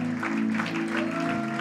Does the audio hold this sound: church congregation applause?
yes